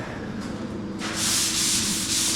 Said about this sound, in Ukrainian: Шліфують, підтирають, десь підмазували.